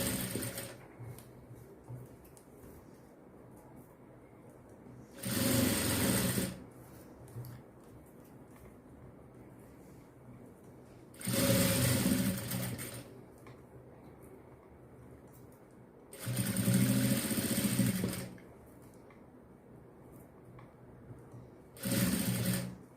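Blouse fabric runs through a sewing machine in four separate stitching bursts of a few seconds each. Each burst is a steady, close whirring hum, and quiet room tone fills the pauses between them.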